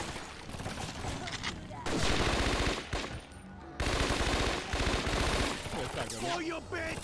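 Gunfire in the Scarface: The World Is Yours video game: dense, loud bursts of rapid automatic shots fill the whole span in long continuous volleys, with brief dips between them.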